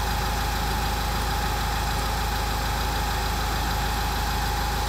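Car engine idling steadily under the hood during an air mass sensor check, a constant even drone with a low rumble, continuous and fairly close with no talk.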